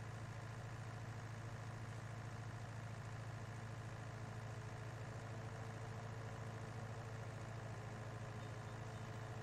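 A Kubota tractor engine drones at a steady idle-like pitch while mowing with a finish mower in Farming Simulator, a constant low hum with no change in rhythm, fairly faint and uninterrupted.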